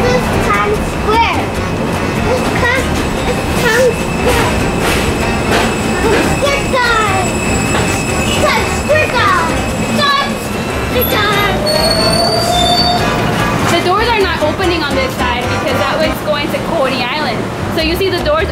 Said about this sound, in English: Our train's here!